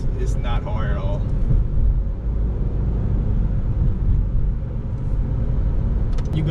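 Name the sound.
2015 Honda Civic Si manual car driving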